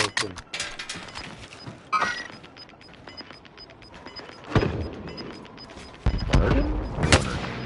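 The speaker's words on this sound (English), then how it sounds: "I'm getting sniped" Sharp sniper shots crack out in a Warzone match, a few spaced bursts with echoing tails amid game noise, and players talk over the action.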